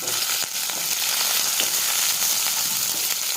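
Eggplant pieces fry in hot oil with dried chili, green chili and curry leaves, giving a loud, dense, continuous sizzle with small crackles and no voices.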